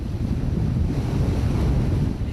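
Heavy surf from high ocean waves breaks and rolls continuously along a rocky Korean coast where women free-divers work, a loud, dense wash of water with wind buffeting the microphone throughout.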